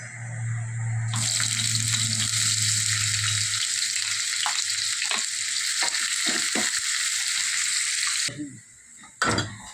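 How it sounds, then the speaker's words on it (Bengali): Chopped onion hits hot oil with a loud, steady sizzle that holds for several seconds, broken by scraping stirs, before cutting off abruptly with a few clatters at the end. "তেল গরম হয়ে গেছে, এখন আমি দেবো পেঁয়াজ কুচি।"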